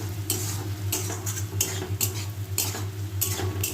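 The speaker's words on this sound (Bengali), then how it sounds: "নেড়ে নিচ্ছি বন্ধু" Vegetables being stirred in a cooking pan, with repeated scraping strokes of a utensil against the pan every half second or so over a constant low hum, close and clear.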